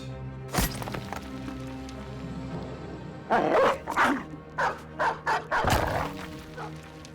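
Dogs bark in a fantasy battle video game, a few sharp yips and barks clustered together amid combat thuds and game sounds, fairly close and loud.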